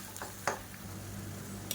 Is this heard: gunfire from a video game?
no